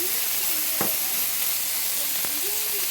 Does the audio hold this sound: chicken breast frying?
yes